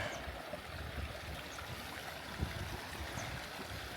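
A clear mountain river rushes past at a hiking river crossing near Ala Kul in Kyrgyzstan, a steady, full broadband roar of flowing water heard close by with no voices.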